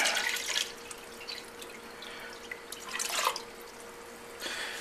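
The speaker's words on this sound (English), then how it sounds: "I already have 1 cup of water in there, and this is the other 8" Water poured into a cooking pot for canning syrup, eight cups going in to join one already there; soft splashing and trickling comes in a few separate bursts, moderately close and fairly quiet.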